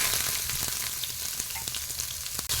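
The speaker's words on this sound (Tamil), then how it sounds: "இப்போ வெங்காயத்தை நல்லா வதக்கி விட்டுடலாங்க" Chopped large onions with curry leaves frying in hot oil for tomato thokku, a steady close sizzle with faint stirring clicks throughout.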